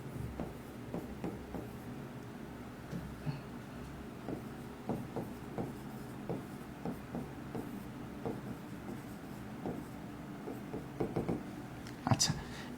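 Repeated short scratches and taps of writing on a board during a math lecture on arithmetic series, coming in quick irregular strokes and clusters under someone talking, ending with a sharper knock.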